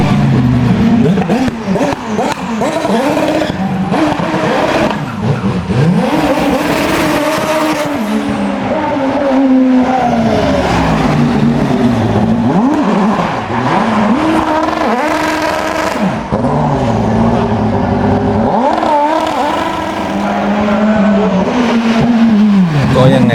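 Race cars tear around at Red Bull Racing Day Tokyo 2021 in Japan, loud and close, with engines revving hard, sweeping up and down in pitch, and tires squealing through repeated passes.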